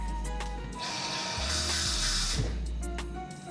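Water is poured over potato chunks in a measuring cup, making a steady hissing splash that lasts a couple of seconds, close and fairly quiet.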